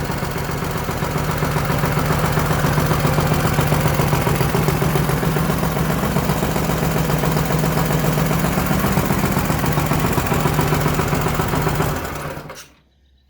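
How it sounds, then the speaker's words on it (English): A Predator 224 small gasoline engine runs on a bench nearby during break-in with a fast, steady buzzing chatter, holding constant for several seconds before shutting off and winding down to silence. "I'm not going to make you listen to 5 minutes of that engine running"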